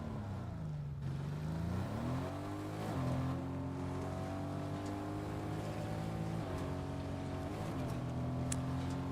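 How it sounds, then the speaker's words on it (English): A car engine in a video game runs steadily throughout, its pitch rising and settling as it shifts and accelerates, loud and close with no talk over it. "Well, I guess we'll take this car."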